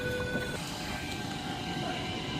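Steady rumble and hiss of a passenger train departing Toongabbie station, with faint high tones fading early, continuous and moderately distant with no voices.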